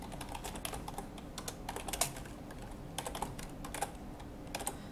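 Steady, rapid typing of code on a computer keyboard, with close, crisp key clicks in an even stream and occasional louder strokes, no voices.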